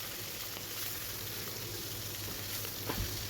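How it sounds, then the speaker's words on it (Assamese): Several fish seasoned with salt and turmeric fry together in hot oil, giving a soft, steady sizzle that stays quiet and even throughout, with no one talking. "তেলখিনি গৰম হওঁতে একেলগে কেইবাটাও মাছ দি দিলোঁ।"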